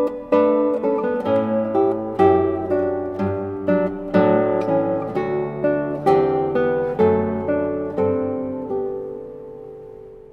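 Classical guitar played in a four-voice Bach fugue as the low bass voice enters, dense plucked notes ringing and overlapping in a steady, close, fairly loud stream with no talking.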